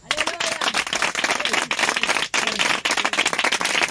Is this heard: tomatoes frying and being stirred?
no